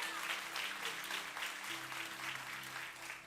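A church congregation applauds during a celebration service, continuous clapping in a reverberant hall, moderately quiet, with a low sustained tone from music or an organ pad humming underneath.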